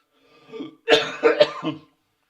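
A few close, dry coughs in quick succession, preceded by a softer throat-clearing sound, with no talking.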